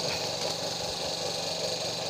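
A grass trimmer engine with a worn, thinning carburetor diaphragm runs steadily near at hand, a dense buzzing drone that stays flat and never climbs to a strong rev.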